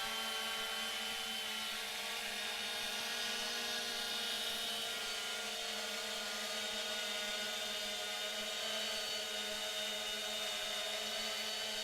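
A Solo drone with a controller that keeps losing signal hovers in place, giving a steady, loud multi-tone buzzing whine with constant pitch that runs unbroken for the whole stretch.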